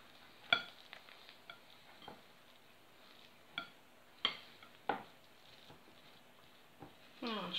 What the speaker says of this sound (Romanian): Amestecăm bine, bine.